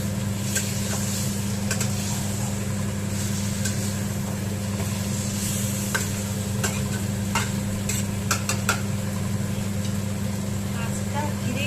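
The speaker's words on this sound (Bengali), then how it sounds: "আলুটা কষা হোক ভালো করে মশলার সাথে" Potatoes being stir-fried with spices in a pan for dry aloo dum, with a steady low sizzle and occasional scraping stirs throughout.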